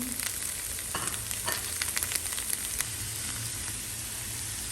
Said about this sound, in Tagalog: Lagay natin yung onion. I-fry natin saglit. Lagay na natin yung ating chicken.